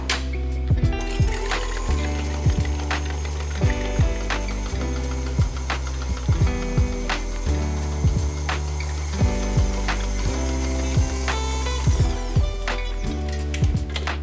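A kitchen mixer whips cream with sugar and whipped-cream stabiliser, giving a steady, close whirring hum with repeated wet slapping and squishing beats as the beaters work through the thickening cream.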